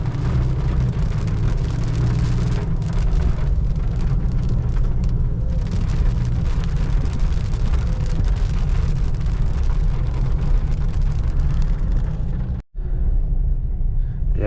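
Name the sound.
heavy rain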